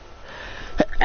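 A short, close sneeze bursts out near the end after a brief sharp intake of breath, alone against a faint background hiss.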